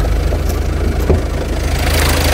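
The 1.7-litre engine of a 2015 Hyundai All New Tucson runs under acceleration with a loud, steady, smooth low drone and a faint rhythmic pulse.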